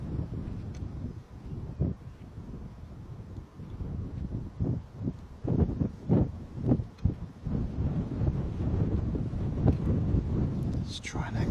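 Strong wind buffets the microphone at Bristol Airport during an evening sunset broadcast, a loud, gusting low roar that surges and drops over several seconds.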